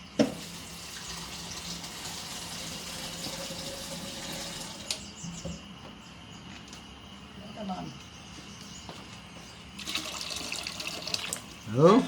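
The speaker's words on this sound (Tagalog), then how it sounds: "nilagyan po niya ng tubig para kumulo" Water running from a tap into a pot for boiling creamy sopas, a steady splashing and filling sound, fairly faint and close, with a few clinks and some talking in the background.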